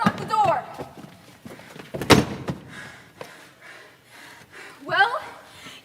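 A door slammed shut in a school fall stage play, one sharp loud bang in the middle, with actors' voices and stage bustle around it.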